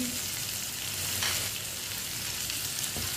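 Finely chopped small tomatoes and green chillies fry in hot oil in a pan, a steady close sizzle with a few spoon scrapes as they are stirred.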